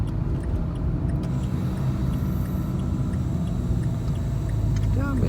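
Car speeding up during a driving test in Istanbul, a steady low engine rumble with road noise inside the cabin, close and continuous.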